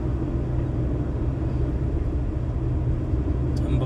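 A small Alto car drives along a road, its steady low engine and tyre rumble continuous and fairly loud throughout, with no voices.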